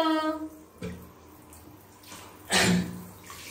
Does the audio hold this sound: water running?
yes